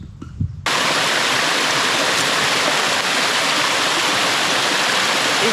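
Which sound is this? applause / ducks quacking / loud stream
loud stream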